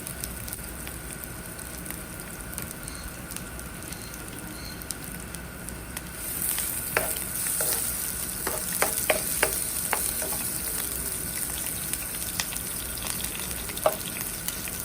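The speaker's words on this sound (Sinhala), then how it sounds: "තෙල් රත් වූ පසු සුදු ලූණු, ඉඟුරු, සේරු කැබැල්ලක් එක් කර සුවඳ එනතුරු බැද ගන්න" Garlic, ginger and a piece of lemongrass fry in hot oil in a pan on the stove, a faint sizzle that grows busier after a few seconds, with light crackles and pops.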